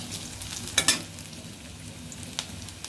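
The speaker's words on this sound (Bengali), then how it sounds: "পেঁয়াজটা আমার হালকা ভাজা হয়ে গেছে, আমি এখন দিয়ে দেবো চিংড়ি মাছ।" Shrimp go into lightly fried onions in a pan, with a low steady sizzle and a couple of brief scraping clinks near the start and another light clink later, fairly faint throughout.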